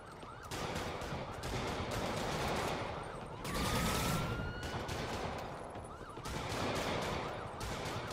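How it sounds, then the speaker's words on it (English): Rapid gunfire crackles in a Spider-Man video game, with dense bursts of automatic shots repeating in waves alongside a rising siren-like tone, heard at a distance and fairly faint overall. "Reports of gunfire at the Hammerhead establishment!"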